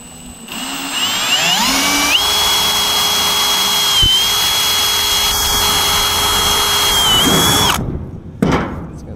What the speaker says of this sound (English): we'll go ahead and drill this cross brace just to make sure this catches